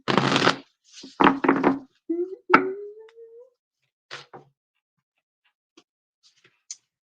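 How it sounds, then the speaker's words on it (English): A deck of tarot cards gets a quick shuffle, a few short riffling bursts and soft slaps of cards up close, with someone speaking briefly between them and faint clicks trailing off into near silence. "Just a quick shuffle here."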